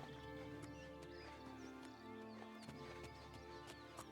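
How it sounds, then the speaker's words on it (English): A wild horse trots in the video game Oblivion, its soft clip-clopping hooves faint and low in the mix beneath a steady bed of game music. "sneak up and take a wild horse?"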